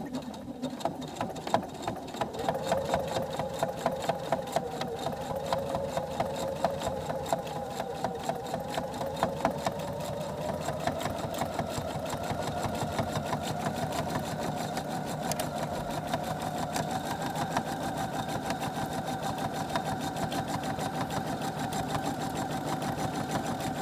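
A sewing machine stitching in the ditch along the sashing strip of a quilt, a fast, even mechanical whir of needle strokes running continuously up close, slowing near the end.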